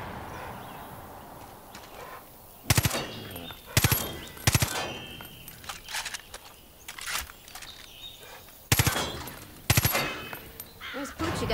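Far Cry 5 gunfire on Xbox One X: sharp, loud shots in separated single cracks and short bursts over a quieter background of game ambience.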